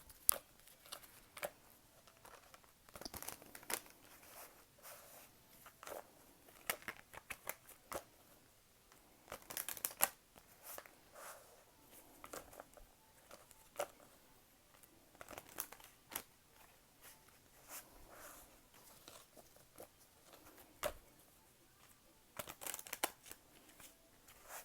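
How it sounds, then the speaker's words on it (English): Tarot cards are shuffled quietly for a long stretch, with soft, irregular riffles, slides and taps close by, and no talking. "I'm going to shuffle the tarot now for more information"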